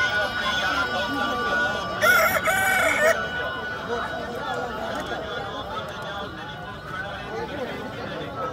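A white rooster at a pigeon and chicken market in Bhakkar crows once, a loud drawn-out call lasting about a second, amid steady crowd chatter and people talking nearby.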